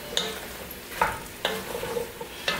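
Pork, eggplant and potato cooking in a hot pot, a close crackling sizzle punctuated by several sharp spoon scrapes and clinks against the pot as it is stirred.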